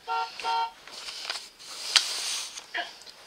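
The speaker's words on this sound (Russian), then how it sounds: "Грузовик." A truck horn gives two short, loud honks in quick succession at the start, followed by quieter patter and rustling.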